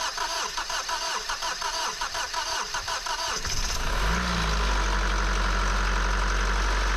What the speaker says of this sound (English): And try to start engine.